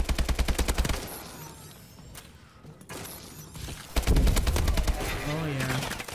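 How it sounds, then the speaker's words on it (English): Rapid spam-fire from an S12 shotgun in Advanced Warfare, a burst of loud, closely spaced blasts at the start and again near the end, with quieter game noise and speech between. "the S12 shotgun. the spammeronies of that shotgun, man"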